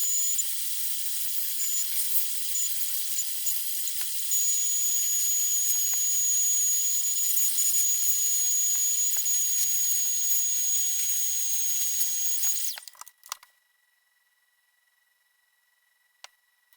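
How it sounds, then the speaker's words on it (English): Steady broadband air blower hiss drying a 1936 Clarville C5 radio variable capacitor after washing, loud and continuous for about thirteen seconds before cutting off abruptly, followed by near silence and a faint click. "the variable capacitor is dried using an air blower"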